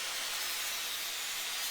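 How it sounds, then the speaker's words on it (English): Angle grinder with a flap disc sanding wood, a continuous bright abrasive whir that stays steady and moderately quiet, with no talking. "The flap disc on the angle grinder is a really good"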